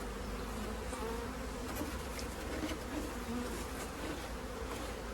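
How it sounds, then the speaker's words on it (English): A dense, steady buzz of many bees swarming close by, continuous and unbroken throughout. "Look how many little bees"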